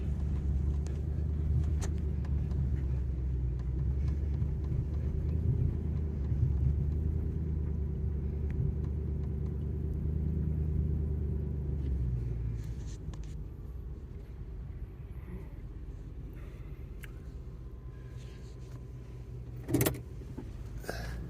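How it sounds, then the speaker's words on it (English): A vehicle loaded with scrap copper rolls slowly, giving a steady low engine and road rumble that eases slightly partway through, with a brief knock near the end and no talking. "Driving a little slower, don't want anything to fall off."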